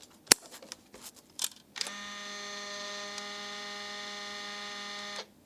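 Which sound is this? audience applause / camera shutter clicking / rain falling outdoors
camera shutter clicking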